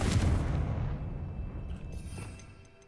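A Confringo fire spell blast in Hogwarts Legacy lands as a single muffled boom at the start, its rumble slowly fading into quiet ambience.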